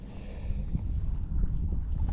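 Wind gusts across Folsom Lake during a January bass fishing outing, a steady low rumble of wind noise buffeting the microphone, rising slightly in the second half, with no talk.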